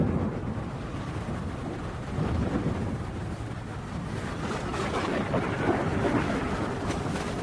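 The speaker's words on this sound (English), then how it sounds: "the sky becomes heavy with clouds and thunder rings out" Thunder rolls during a storm at sea, a deep rumble that swells and fades over steady wind and rain noise, with no voices.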